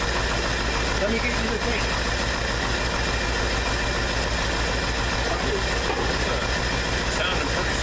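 A Ford car engine with a freshly adjusted carburetor idling steadily and loudly nearby, an even, continuous rumble with no rattle, while people talk over it.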